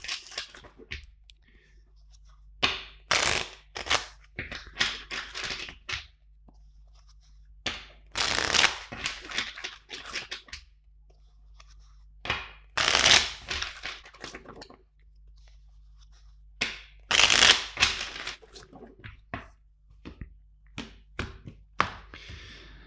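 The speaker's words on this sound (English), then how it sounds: "First, let's shuffle three times the deck." A deck of tarot cards is shuffled in several separate bursts, each a crisp riffling flutter with quick taps, close and clear, with silence between the rounds.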